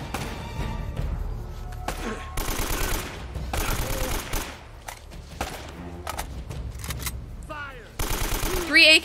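AK rifle fire in the video game Uncharted: Drake's Fortune comes in repeated rapid bursts separated by short gaps, loud and close, with thuds and a louder volley at the end.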